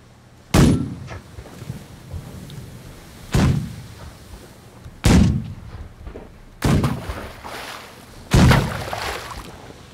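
Five heavy boat-mounted gun blasts in The Last Leviathan, booming, evenly spaced shots with echoing decay between them, no talk.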